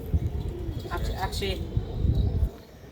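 Pigeons in a fourth-floor rooftop loft coo and flutter softly nearby, while someone talks over them throughout.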